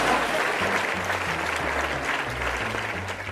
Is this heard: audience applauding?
yes